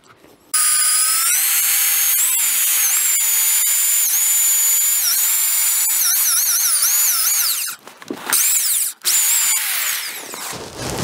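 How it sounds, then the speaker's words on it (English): A power drill with a 1¼-inch bit bores a hole through a log for a cabin build, a loud, sustained whine with a few shifts in pitch, then brief bursts and pauses near the end. "I'm going to finish my hole with this other 1¼ bit."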